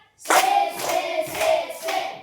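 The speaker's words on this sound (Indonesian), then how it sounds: "4 kali tepuk semangat." A classroom group performs a spirit clap chant, with four sharp, loud clap bursts in an even rhythm close by. Each burst rings briefly, and there is no talking.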